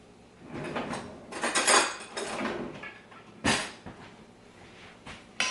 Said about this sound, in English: So just let me grab a spoon.